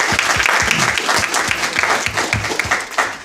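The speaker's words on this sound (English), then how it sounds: "Let's give a round of applause." Audience applause at a hackathon presentation, a dense, steady wash of many hands clapping close by for the full stretch, with a few sharper individual claps standing out.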